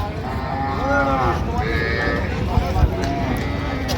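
A cow lets out drawn-out, low moos close by, over steady farmyard noise and faint background voices, at a cattle market in Raniganj, Dinajpur.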